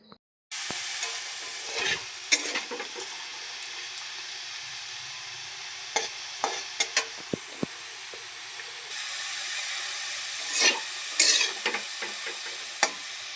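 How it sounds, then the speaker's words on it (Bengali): Potatoes frying in a pan, a steady soft sizzle running throughout, punctuated by scattered clinks and scrapes of stirring with a spatula. "আলু ভাজা হয়ে গেছে এবার নামিয়ে নেব"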